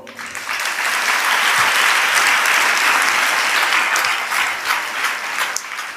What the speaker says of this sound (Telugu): మీరు కూడా అనుకున్నని వేళ కొడుతుంటారు చప్పట్లు